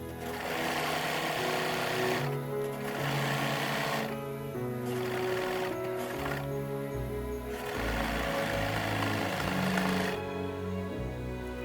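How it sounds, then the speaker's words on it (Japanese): An overlock serger runs steadily, stitching sleeve seams on kimono fabric from hem to hem, a continuous close mechanical whir with brief pauses and speed changes, with no speech. "袖も一緒に裾から裾までロックミシンをかけます。"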